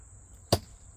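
A thrown Architect Knives AK 5.5 knife strikes a target with a single sharp thunk. The impact stands alone over a faint background hiss and a thin steady whine.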